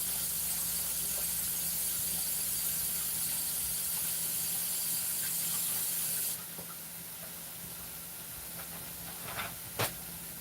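Broccoli steaming in a pan on a home stove gives a steady, loud hiss that holds for about six seconds, then drops to a softer hiss, with a brief sharp crackle near the end and no talking.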